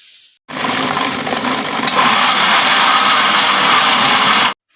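Electric grinder blending two large onions for chana masala: a loud, steady whirring roar that starts abruptly, holds for about four seconds, then cuts off.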